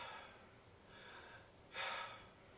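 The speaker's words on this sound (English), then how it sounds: "I'm going to breathe in" A person takes one deliberate deep breath in to demonstrate chest breathing: a short, soft, airy inhalation rising near the end after quiet, faint breathing.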